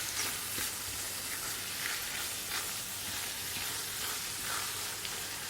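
Mushrooms frying with onion and butter in a pan, a soft continuous sizzle heard close and fairly quiet, even throughout with light bubbling.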